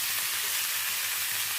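Brinjal pieces hiss and sizzle in a hot frying pan for a curry, a steady, close, bright frying sound with no talking.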